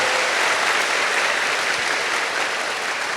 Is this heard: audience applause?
yes